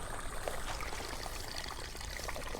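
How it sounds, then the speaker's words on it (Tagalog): Water pours steadily into a sprayer tank in a rice field, a faint continuous stream and trickle running alone. "So lagyan ko lang ng tubig."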